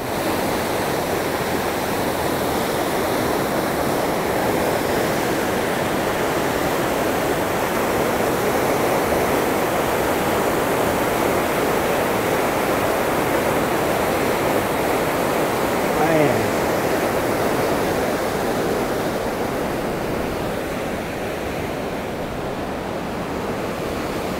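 Strong river current rushing steadily and loudly, a broad continuous roar of water close by with little variation across the whole stretch, recorded near Chiang Mai, Thailand.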